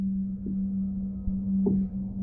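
A sampler synth note with a very long attack rises slowly into a steady, low sustained tone that holds unbroken throughout, heard alone and fairly quiet.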